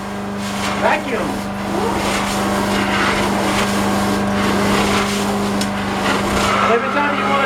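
An Amtex 2545 truck-mount carpet cleaner vacuums hot-water-cleaned carpet with a loud, steady machine roar and a constant hum, while a voice talks over it intermittently.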